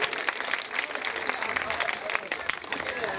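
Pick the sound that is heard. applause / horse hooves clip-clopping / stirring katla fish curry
applause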